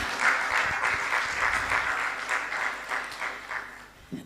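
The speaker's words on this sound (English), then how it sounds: "So a round of applause for that." Audience at an arts and culture exhibition launch claps steadily, a dense, fairly close round of applause lasting about four seconds before tapering off.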